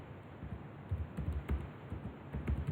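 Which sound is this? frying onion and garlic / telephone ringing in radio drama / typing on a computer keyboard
typing on a computer keyboard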